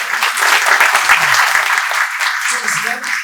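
A short, loud burst of audience applause at a school event in Portugal, dense clapping holding steady before tapering off.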